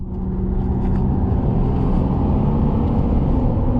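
A Ford F150 EcoBoost pickup engine rumbles and builds steadily as it accelerates to pass at about 90, with loud road noise filling the whole clip.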